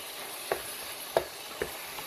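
Tomato paste frying in a pan for Bolognese sauce, a steady sizzle with a few distinct scraping stirs of a spoon, close and clear with no talking.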